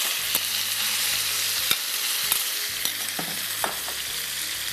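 Chicken pieces fry in a pan with a continuous loud, close sizzle and crackle, with scattered sharp clicks of spattering oil and no voices.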